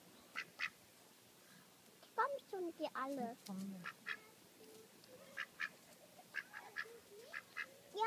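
Ducks quack in short, repeated bursts close by at a feeding spot, scattered and overlapping, while people talk quietly among them.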